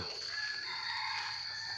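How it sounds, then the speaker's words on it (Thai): A wild junglefowl crows in a community forest in Lampang, Thailand, a drawn-out rooster-like call heard from some distance, faint and alone. "ได้ยินเสียงไก่ป่าไก่ขัน"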